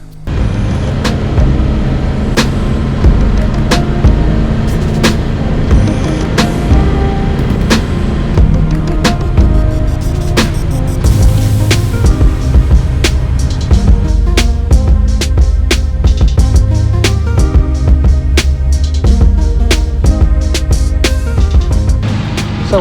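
An all-motor LT1 V8 Chevrolet S10 pickup drag racing on Shell 93 pump fuel, with a loud, sustained engine roar at the track, repeated sharp cracks and pops, and the rumble rising and falling as it runs.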